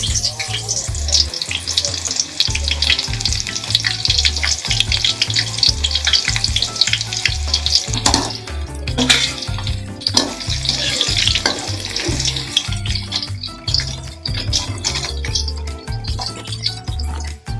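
Onions frying in a pan for a vegetable dish give a loud, continuous crackling sizzle with stirring scrapes, set against a steady, rhythmic low-pitched backing throughout.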